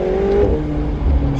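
A McLaren 720S Spider with a turbocharged engine accelerates hard, a loud, close, sustained roar with a rising whine and heavy low rumble, no voices.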